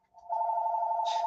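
A telephone in a room where someone is recording gives a steady electronic ring, a continuous buzzing trill that starts up and holds loud and close throughout.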